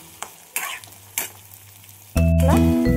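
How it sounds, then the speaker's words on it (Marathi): Tomato and onion masala frying in a pan for eel fish curry: a few quiet stirring clatters, then a loud burst of hot sizzling as ingredients hit the oil. "तो टाकून चांगला फ्राय करून घेऊया।"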